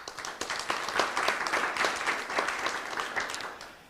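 Dense audience applause greeting speakers on a men's emotional health panel, many hands clapping in a fairly close, even wash that swells slightly and then eases off.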